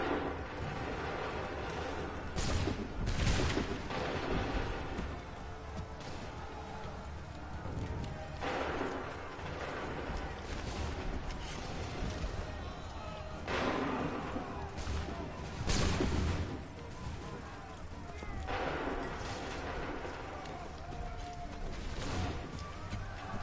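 Musket volleys and artillery fire in Assassin's Creed 3, with a series of repeated booming blasts several seconds apart over a steady battlefield rumble, moderately loud and somewhat distant, with no talk.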